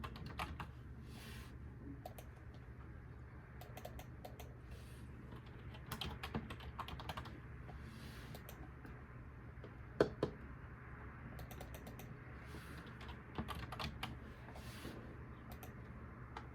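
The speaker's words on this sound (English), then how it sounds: "I'm going to have to type in some of this stuff." Keys clatter on a computer keyboard in quiet, uneven bursts of typing, with a low hum of the room underneath and no talking.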